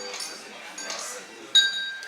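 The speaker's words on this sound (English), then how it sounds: "I am going to use my jigger for this, just so I make sure I get an accurate measurement." A metal jigger clinks sharply against glass while pineapple juice is measured at a mixology class bar, a bright ringing chink standing out once over soft background clatter and murmur.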